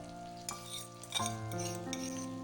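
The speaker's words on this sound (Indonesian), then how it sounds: "Kita panggang di api kecil sampai bawahnya matang." Tempeh grilling in a pan over low heat gives a soft, steady sizzle, with a few light scrapes and clinks of a utensil against the pan, close and fairly quiet.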